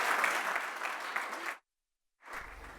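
Audience applause for a contest winner announced at Arduino Day 2019's community challenge, a dense steady ovation lasting about a second and a half, then a brief silence before clapping resumes.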